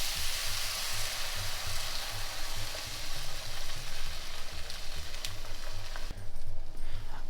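Eggs and cheese fry with weenies in a hot pan, a steady close sizzle and crackle running continuously, alone with no voices.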